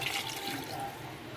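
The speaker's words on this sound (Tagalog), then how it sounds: "Mag-add tayo ng tubig." A small splash of water is poured into a pot of pumpkin soup, giving a steady, close, gushing pour that fills the whole short moment without any talk.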